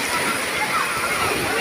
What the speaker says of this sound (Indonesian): Di kolam renang ini ombaknya cukup besar, terjadi dengan sendirinya.